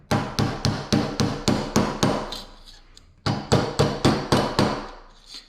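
Metal tabs are hammered down onto a piece of nickel in two quick rhythmic bursts of light, ringing taps, about a dozen close strikes in all, separated by a short pause.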